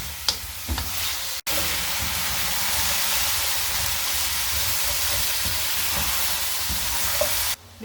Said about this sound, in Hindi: देसी चिकन है, इसकी भुनाई अच्छी तरह करनी है